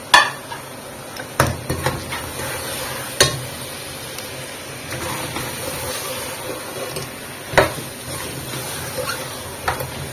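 Mutton pieces and drumsticks being stirred and fried in a pan, with a continuous low sizzle broken by sharp, irregular clanks of a spoon against the metal pan, close and fairly loud, with no talk.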